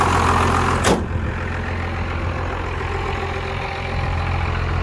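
Cummins diesel swapped into a 1999 Chevy Suburban K2500, a steady rattling diesel idle clatter heard close and continuous, with a brief sharp broadband burst near the start.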